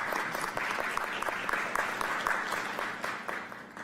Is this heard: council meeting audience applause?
yes